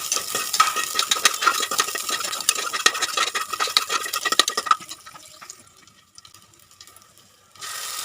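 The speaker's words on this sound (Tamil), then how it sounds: "இதில் வெட்டி வச்ச சின்ன வெங்காயம் ஒரு கைப்பிடி இருக்குங்க அதையும் சேர்த்துக்கலாங்க நல்லா கோல்டன் ப்ரௌன் வர வரைக்கும் வதக்குங்க" Chopped shallots with a bay leaf sauté in a pan for a drumstick kurma, with busy crackling and quick stirring that fades to a low hiss, then a brief steady noise near the end.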